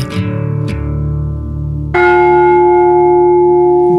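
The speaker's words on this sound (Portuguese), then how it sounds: "eu não sabia que era um carrilhão da estrela" The Estrela carillon in Lisbon rings loud, sustained bell tones, with two struck notes decaying in the first half, then a brighter, louder chord that holds steadily, no voices.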